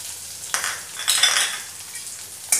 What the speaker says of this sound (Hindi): कुछ देर चलाने के बाद हम इसमें ये प्याज डाल देंगे जिसे हमने बारीक काट रखा है